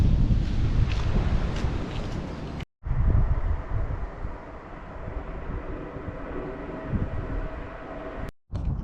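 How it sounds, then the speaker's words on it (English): Strong wind buffeting a microphone outdoors on a camping walk, a loud rumbling low roar with gusty swells, cut by two brief dropouts, with no voices. "a little bit windy today."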